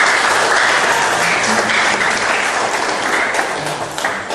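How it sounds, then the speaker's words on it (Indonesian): Loud, dense applause from a church congregation at an Easter service fills the space continuously, a full, sustained roar of many hands clapping with no speech over it. "Beri tepuk tangan Bapak Ibu."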